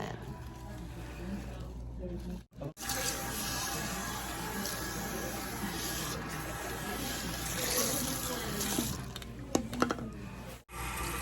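Tap water runs steadily into a sink while hair is rinsed after shampoo and conditioner, a close, continuous splashing rush that drops out briefly twice.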